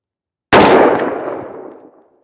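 A single rifle shot fired with Atomic Ammo 77 grain tactical law enforcement match ammunition: one sharp, loud crack followed by a ringing, echoing decay that fades over about a second and a half.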